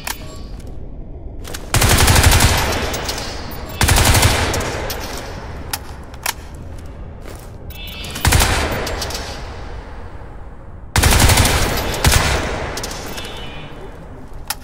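Rapid automatic weapon fire in the Crysis 3 video game comes in loud sustained bursts of gunfire, each a couple of seconds long, separated by quieter gaps with faint game ambience.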